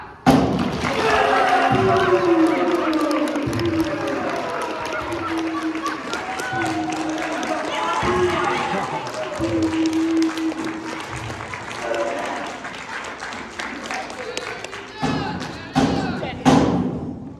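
A middle school play audience applauds with heavy thumping and stamping, loud and sustained, thinning out toward the end.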